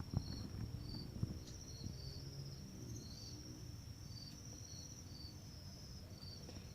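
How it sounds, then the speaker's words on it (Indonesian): Faint high-pitched chirping from one-week-old crickets in a breeding setup, short repeated trills over a low background rumble and light handling noise. "Nah, ini jangkrik usia 1 minggu kawan."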